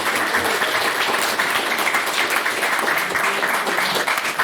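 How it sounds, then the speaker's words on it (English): Steady applause from a debate audience fills the room, many hands clapping in a dense, even wash at moderate loudness with no break, following a speech by a student debater. "can we have another round of applause for what was John Ewing's big speech?"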